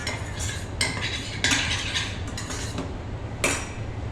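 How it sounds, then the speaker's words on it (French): Morels and shallots sweating gently in a pan for a beef fillet with morel cream, with clinks and scrapes of a utensil stirring against the pan over a low steady hiss and no talking. "j'incorpore dans mes échalotes suer mes morilles. Les grosses morilles avec, et je vais faire suer gentiment l'ensemble."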